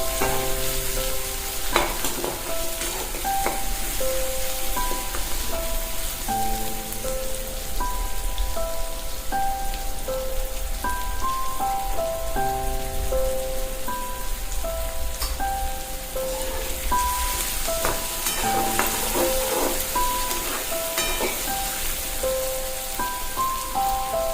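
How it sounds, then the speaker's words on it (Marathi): Tomatoes stirred and roasted in a pan while making sushila for breakfast, with steady frying crackle and sizzle under a layer of background music, no talking. "याला पण 1 मिनिटभर फक्त खालीवर करायचे, पूर्णपणे भाजायचे नाही"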